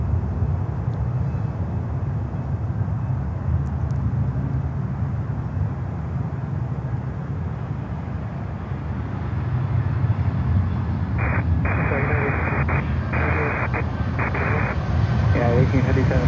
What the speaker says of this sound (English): Surf City, El Salvador livery coming in from Avianca.